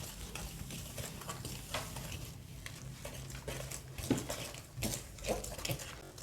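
A spoon works through carrot and dates cake batter in a bowl, giving soft, irregular scraping and squelching strokes close by at low volume, with no voices.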